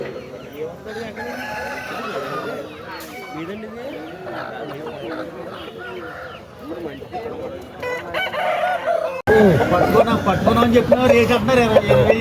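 Country chickens and roosters at a busy Saturday chicken market cluck and crow repeatedly, with people talking and bargaining throughout; the din grows louder near the end.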